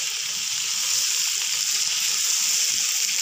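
Okra and crushed chili frying in a pan, stirred together, give a steady loud sizzle with soft scraping underneath throughout, no voices.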